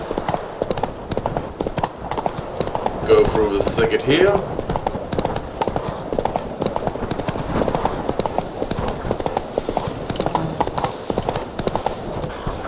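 A horse's hooves clip-clop in a steady walking rhythm in the video game The Witcher 3, running continuously beneath a man's speech and game dialogue.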